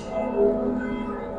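Church bells ring in a steady, sustained peal at moderate loudness, their tones lingering and overlapping without any voices.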